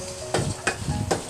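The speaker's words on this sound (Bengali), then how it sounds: "এখানে আস্তে আস্তে তেলে পেঁয়াজগুলো ভেজে নিব।" Onions frying slowly in oil for a dried-fish (shutki) dish, a steady soft sizzle with three sharp scraping stirs spaced evenly through it, no voices.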